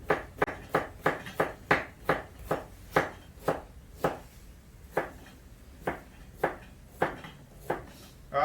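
A knife chops onions against a board in a steady run of about twenty sharp, close knocks, fast at first, then slowing and evenly spaced.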